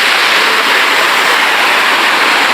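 A small, low waterfall on a river at a resort pours with a steady, close, full rush of water that holds constant throughout, with no voices.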